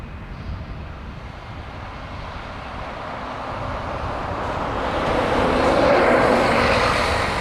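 An Airbus A321XLR, registration EI-XLU, arrives from Munich at Dublin Airport, its broad engine rumble building steadily louder toward the end as it nears.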